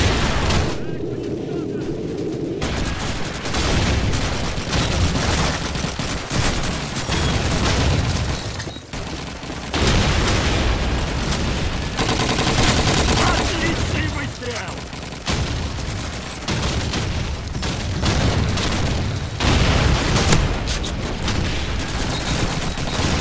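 Rapid gunfire and explosions from Call of Duty 2 multiplayer, a dense, continuous barrage of shots and booms mixed with voices talking throughout.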